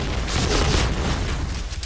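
A grenade blast during a Point Blank match on the Midtown map: a dense, rumbling burst with a sustained roar that fills the short moment, loud and close, with no clear speech over it.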